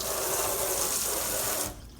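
Liquid pouring off a pan of oven-baked BBQ pork neck bones, a steady continuous splashing stream for under two seconds that stops abruptly.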